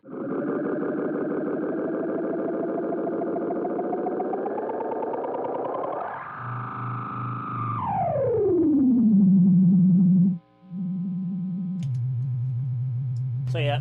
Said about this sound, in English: that's a very overrated kind of trick with analog delays